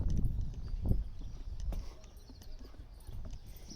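Horses' hooves clip-clop near the Porte de la Reine in the walled town of Aigues-Mortes, sounding as uneven, moderately close knocks on a hard surface over faint outdoor background noise.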